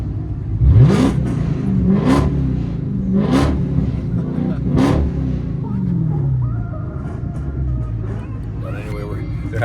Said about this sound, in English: they're having a revving match right now